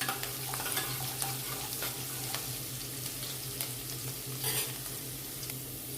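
A low, steady sizzle comes from two mild green chillies cooking in hot tempering oil, with scattered stirring clinks and scrapes throughout and no one speaking.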